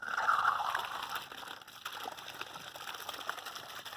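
An air compressor drives an air-powered water pump, giving a steady hiss with gurgling, sloshing water over several seconds at moderate, even loudness.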